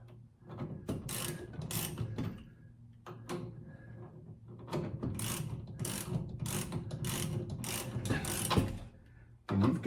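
Ratchet clicking steadily while tightening the lower bolt of a shock absorber on a classic American car during front and rear shock replacement, in repeated bursts of close, crisp pawl clicks with short pauses between strokes.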